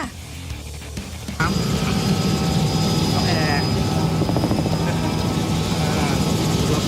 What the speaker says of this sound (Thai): เราอยู่บนเฮลิคอปเตอร์